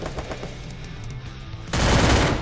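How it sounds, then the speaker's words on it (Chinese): Machine gun fire in the mobile battle royale game Free Fire starts as a sputtering run of shots, then breaks into a loud, sustained close-range burst. "拿机枪轰人啊"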